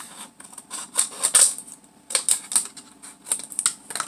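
Crisp snipping and crunching of scissors cutting rings from a plastic water bottle, close by, in a few irregular bursts with short pauses between cuts.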